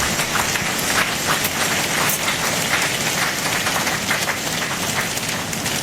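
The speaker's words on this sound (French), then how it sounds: "Et offrez à l'Éternel des plus fortes acclamations." Congregation at a church service applauding and acclaiming, a dense, sustained wash of many hands clapping with cheering, loud and steady throughout with no talking.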